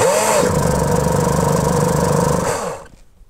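An RC model glow engine, its glow plug slightly loosened, is cranked on a starter bench, producing a loud, steady buzzing whir for about two and a half seconds that then winds down to quiet.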